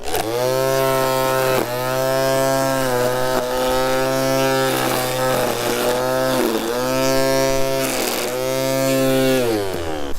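A Teccpo 20 volt, 2Ah lithium-ion cordless string trimmer cutting grass against a block edge, whining steadily up close with a strong buzzing tone that dips and rises in pitch as the line meets the grass, with no talk.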